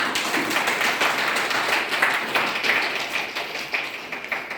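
Audience clapping at a DXN program in Banke, Nepal, honoring the speakers: a dense, steady patter of many hands, moderately loud and sustained throughout.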